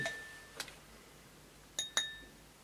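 Drinking glass handled as a magic-trick prop gives a few sharp clinks: one faint tap early, then a quick close pair of bright chimes near the end, with quiet room tone between.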